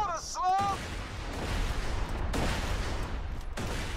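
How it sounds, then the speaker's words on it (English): Mortar fire and explosions in the Borderlands 2 video game, a dense rumbling barrage of blasts with sharper bursts near the start and middle, continuous and loud, with brief voice sounds early on. "Watch out for the mortar, slug."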